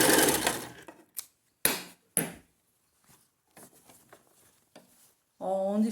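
Sewing machine backstitching at the end of a zipper seam in fabric, a short burst of stitching followed by a few sharp separate clicks and knocks, close, ending with a brief voice.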